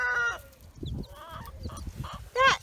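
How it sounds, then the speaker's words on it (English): Clucking calls from a Poland chicken, a crested breed, come in a few close, fairly loud bursts, with a sharper squawk near the end over low background rustle. "That chicken is a Poland"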